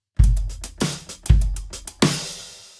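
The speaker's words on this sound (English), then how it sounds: "here I have loaded a simple drum kit" A Logic Pro stock software drum kit plays cleanly: punchy kick and snare hits with ticking hi-hats in a steady groove, ending on a ringing crash.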